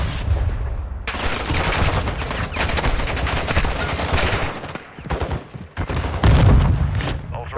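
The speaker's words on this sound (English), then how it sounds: "They're shooting at you" Video game gunfire during a mission: bursts of automatic weapon fire and rapid shots crackle in loud, uneven volleys across the stretch, with brief gaps and a heavier thump near the end.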